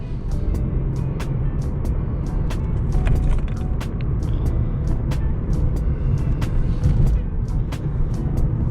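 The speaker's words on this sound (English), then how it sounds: "This is how the Audi A3 drives." Steady engine and road rumble from an Audi A3 S-line driving through a town centre, with tyre noise and a constant low drone filling the cabin and faint ticks above, no talk.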